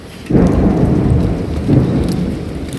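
Rumbling thunder rolls in two low, swelling waves over steady rain, with raindrops pattering close by and no voices.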